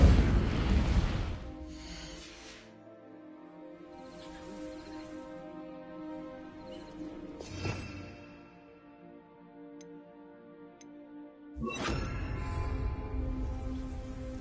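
A fiery burst from the Incendio spell in Hogwarts Legacy whooshes up three times, one near the start, one in the middle and one near the end, each fading over a sustained tonal musical backdrop.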